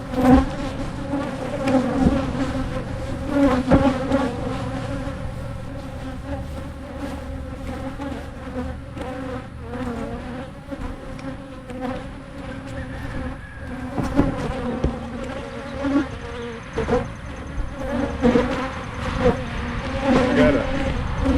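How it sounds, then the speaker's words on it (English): A dense, continuous buzzing of many honey bees close by, swelling and fading slightly, with brief human sounds now and then. "Because these are rowdy bees."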